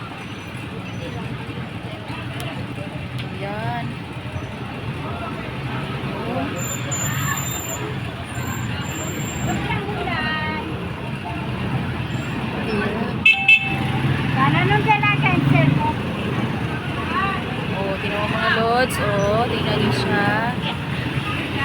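A street traffic jam with a trike among the vehicles: a constant rumble of engines and road noise, repeated short horn toots near and far, and people talking over the din.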